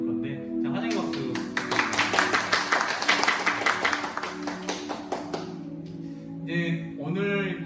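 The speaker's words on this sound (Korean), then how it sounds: "자, 환영의 박수" A small group at a church worship service gives welcoming applause for the accompanist: a burst of scattered, rhythmic claps in the middle, with talking before and after.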